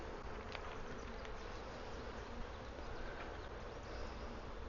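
Dense, continuous buzzing of honeybees swarming around an opened hive during a Wisconsin beekeeping inspection in July, close and steady with no talking.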